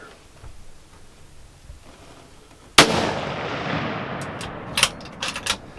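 A single sharp rifle shot cracks out while deer hunting in a food plot at dusk, followed by a rolling echo and a few faint clicks over quiet outdoor ambience.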